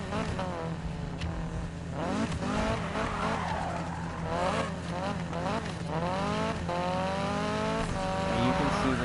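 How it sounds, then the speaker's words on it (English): A car drifting in the racing game Need for Speed (2015), with a steady stream of sweeping, rising and falling engine revs and tire squeal from beginning to end, loud and close, over a constant low background hum. "this car does handle really well in the drifts."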